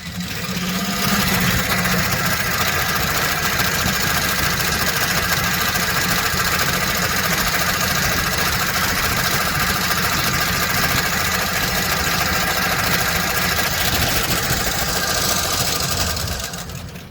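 A 2007 Chevy Express 3500 engine idles loudly and steadily up close, with a fast, continuous ticking from a sticky lifter running through the rumble.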